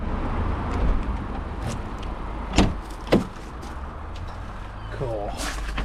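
A person getting into a BMW E30 320i on a freezing day, with a couple of sharp door thumps and some rustling inside the car, followed by a short mechanical whir.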